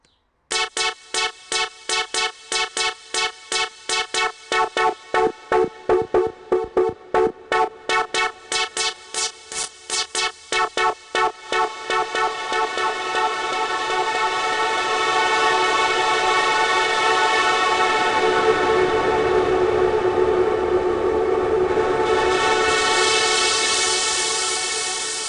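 Synthesizer trance lead: bright, buzzy sawtooth-like tone, first pulsing in rapid gated stutters, then swelling into a dense sustained wash that brightens near the end, loud with no other sounds.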